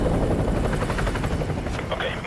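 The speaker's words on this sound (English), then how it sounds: "Chopper inbound, keep low." A helicopter in Call of Duty Modern Warfare 2 Remastered, a loud continuous rotor thump and engine roar dominating throughout, with radio-style speech over it.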